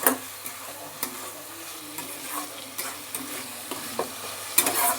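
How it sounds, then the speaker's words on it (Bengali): Onion, ginger, garlic, tomato and capsicum are stirred in a pan of oil for soya keema rice, a continuous sizzle punctuated by repeated scraping strokes and sharp clinks of the spatula against the pan. "এবার আমি ভালো করে পেঁয়াজ আদা রসুনের সাথে টমেটো ক্যাপসিকামটা ভালো করে মিশিয়ে দেবো নাড়াচাড়া করে"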